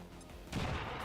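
A frag grenade detonates in XCOM 2, a single loud burst that swells halfway through and then rolls on as a sustained low rumble to the end.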